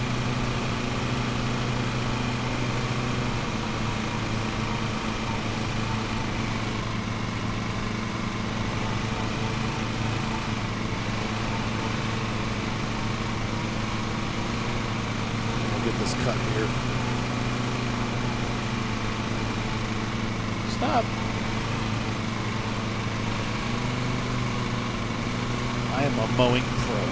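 A lawn mower engine in the Lawn Mowing Simulator video game drones steadily while mowing across a lawn, with a constant low hum and whine that stay even from start to finish.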